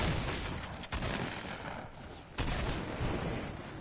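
Fortnite shotgun gunfire, a few heavy blasts with long noisy tails, moderately loud against a constant wash of game ambience, with little or no talk.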